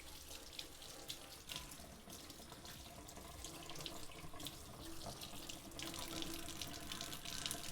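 A kitchen sink tap runs steadily while hands are washed, making a continuous close hiss of flowing water that swells a little toward the end, with no talking.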